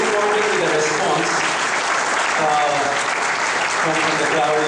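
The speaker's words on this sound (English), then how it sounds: "give a big round of applause to Mr. Prahlad Acharya" An audience claps for a performer, heard as loud, dense, sustained applause from a crowd, steady throughout with a voice speaking over it.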